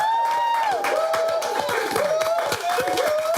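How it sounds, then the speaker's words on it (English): A studio audience claps and cheers together in steady applause, with a voice briefly audible over the clapping. "Give him a round of applause."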